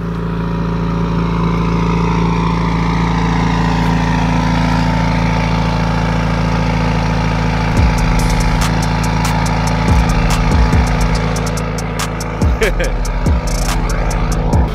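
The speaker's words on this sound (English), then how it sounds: "we just started the car" A Subaru WRX engine idles just after starting, a loud steady low rumble with a constant tonal hum, while people chat nearby and a few sharp clicks and knocks cut in toward the end.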